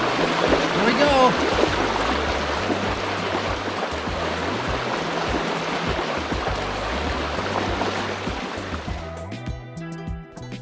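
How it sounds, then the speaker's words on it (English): A bicycle crosses a substantial creek: continuous rushing water splashes and churns for several seconds, with a low rumbling beneath, before it cuts to quieter sounds near the end. "there was a pretty substantial creek to cross"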